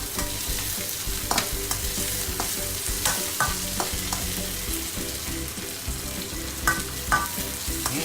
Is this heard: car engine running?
no